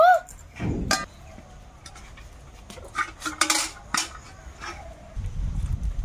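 Crabs being cut up in a home kitchen, with scattered clinks, knocks and scrapes of a knife and metal utensils against a dish, separated by quiet gaps and ending in a low rustling.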